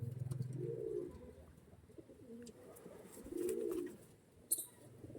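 Pigeons coo in low, soft bursts from a breeding loft of fancy pigeons, with a male among them; a few murmuring phrases rise and fall over a quiet background, with a brief sharp sound near the end.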